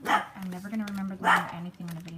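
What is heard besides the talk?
half Cocker Spaniel, half King Charles Spaniel dog barking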